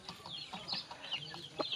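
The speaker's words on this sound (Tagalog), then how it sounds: "Ang mga manok ni Kenting oh." Chickens clucking softly and fairly close by, a run of short, uneven clucks and chirps over faint background noise.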